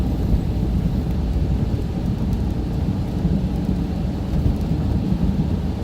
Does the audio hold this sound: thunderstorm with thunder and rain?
yes